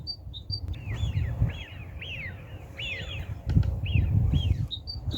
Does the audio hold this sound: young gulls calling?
yes